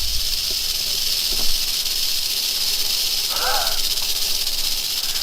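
An eastern diamondback rattlesnake, a big one, rattles in a continuous loud, sizzling buzz that holds steady throughout, close by, with brief exclamations from a person partway through.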